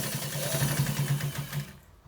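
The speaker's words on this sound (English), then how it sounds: "We are stitching it to the other part, on the other side." A sewing machine runs steadily, stitching white trouser fabric for a designed tutorial piece, its close, even motor drone pulsing rhythmically for nearly two seconds before cutting off into near silence.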